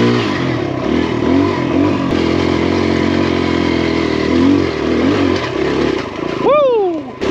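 A Kawasaki KLX dirt bike engine labours up a boulder on a dry trail, loud and close, with steady throttle, rising revs and a sharp rev sweep near the end.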